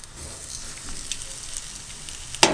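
Squares of potato bread sizzle and fry in a hot pan over a gas flame, a steady crackling hiss that jumps louder near the end as another piece goes in.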